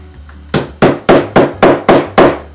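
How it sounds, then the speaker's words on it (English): A metal hammer strikes a snap setter fitted over a snap on a cut leather bracelet, seven sharp, loud, evenly spaced blows in quick succession with no talking. "and then I'll take my hammer"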